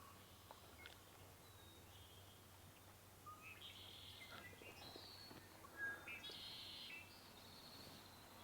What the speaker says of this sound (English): A few little chirps, possibly a warbler.